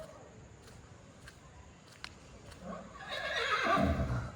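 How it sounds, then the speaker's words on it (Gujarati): A horse gives a loud whinny near the end, rising out of quiet outdoor background noise. "ઘોડો"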